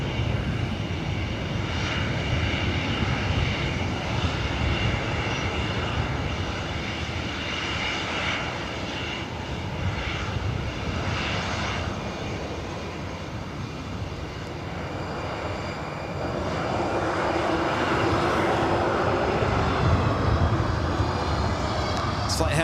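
Airbus A319 airliner at LAX airport, a loud continuous roar of aircraft engines with shifting intensity and a rising whine near the end, with radio chatter and talk in the background.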